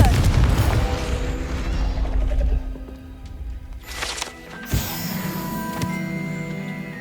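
Confringo fire spell in Hogwarts Legacy bursting with a heavy boom and crackling blast, followed by a sharp impact and a lingering ringing tail, with lesser thuds after.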